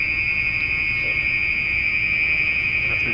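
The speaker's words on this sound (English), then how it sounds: "That's an alarm." Continuous alarm tone during an interview in New Jersey, a steady, unbroken high-pitched electronic whine that holds at the same level throughout with a low background rumble beneath.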